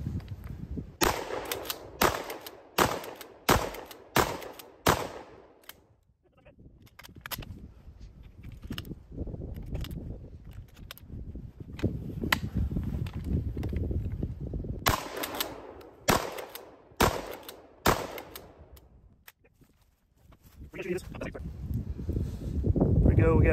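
A G Force GFP3N Pumpernickel shotgun fires slugs and shot outdoors in rapid strings of sharp, loud blasts, two volleys separated by quieter stretches with rustling and a person talking.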